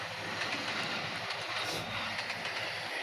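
Blambangan Express train hauled by a CC 206 locomotive, heard from the rear carriage at about 98 kph: a steady, loud rolling rumble and hiss with faint rhythmic clatter of wheels throughout.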